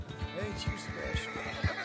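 A horse in Red Dead Redemption 2 gives a short, agitated whinny with snorting breaths, close and fairly loud, with low rhythmic thumps underneath.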